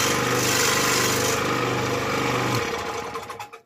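A scroll saw buzzes steadily as it cuts through wood, loud and close, then winds down and stops in the final second.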